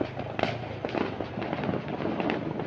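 Big firecrackers bursting during New Year celebrations, a dense run of loud cracking pops close by, one after another with barely a gap.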